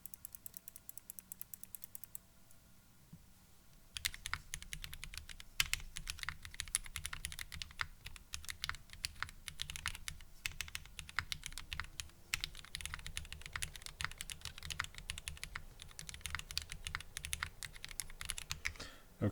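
Rapid mechanical keyboard typing on a KBDFans Odin build with a Cherry switch on the spacebar, close and steady, clacks running continuously after a brief quieter start, with a low fan-like hum underneath.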